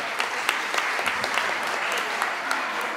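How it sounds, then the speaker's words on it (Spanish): An audience at an award ceremony for schools applauds steadily, with dense clapping from many hands close by and a few louder individual claps standing out, with no break in the sound. "Recibámoslo con un fuerte aplauso"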